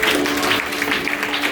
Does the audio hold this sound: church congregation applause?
yes